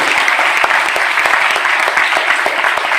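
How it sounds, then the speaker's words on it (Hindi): A large seminar audience at a network marketing talk gives loud, steady applause, a thick wash of many hands clapping at an even level for about three seconds. "एक बार उसको जोरदार तालियां बजाइए।"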